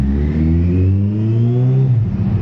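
A 2020 Kawasaki Ninja ZX14R fitted with a Delkevic slip-on exhaust revs up and holds a steady, deep, mellow engine note for about two seconds before easing off, close and loud.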